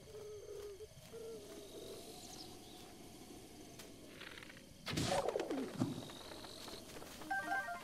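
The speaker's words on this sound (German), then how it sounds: "Oh, da oben ist noch eine Taube." Pigeon cooing in The Legend of Zelda: Breath of the Wild, a few soft low calls early on amid game ambience, followed by louder bursts of other game sounds.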